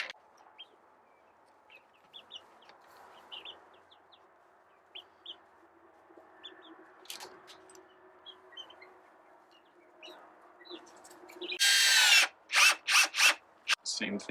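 A power drill driving screws into a strap on a DIY chicken feeder, several loud close whirring bursts near the end, after a long quiet stretch of chickens clucking in the background.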